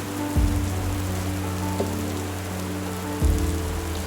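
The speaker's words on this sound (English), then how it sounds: "Rain poured down and lightning flashed and thunder crashed." Rain pours steadily with a constant hiss, broken by a few low thumps and soft distant thunder rumbles.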